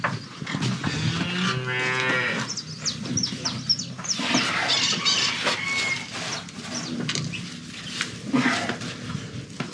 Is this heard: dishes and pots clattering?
no